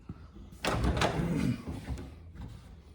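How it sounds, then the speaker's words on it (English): A door on a 1978 Chevy truck swings open with a single solid clunk and a short rattle, close by, followed by a fading metallic ring. "let me open this door again."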